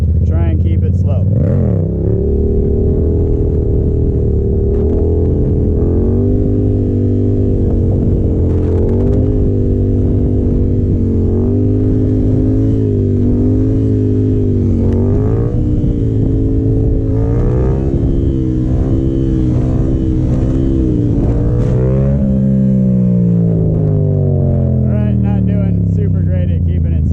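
A Yamaha FZ-07 motorcycle rolls slowly in first gear at about 9–10 mph, its engine giving a loud, steady drone that rises and falls gently with the throttle throughout.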